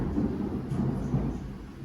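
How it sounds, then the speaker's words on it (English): Thunder rumbles outside during a rainstorm, a low continuous roll heard from indoors, steady and moderately loud with a faint hiss of rain. "It's been thundering a bit as well,"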